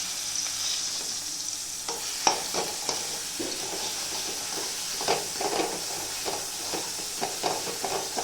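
Green chillies fry in oil in a kadai with a steady sizzle and hiss, broken by repeated stirring scrapes and clatters at a moderate level, no talking.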